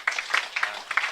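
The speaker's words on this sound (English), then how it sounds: "I think you should all give yourself a round of applause as well." Applause from an audience, heard as a short burst of several distinct claps in an uneven rhythm, moderately close, brief and fairly light.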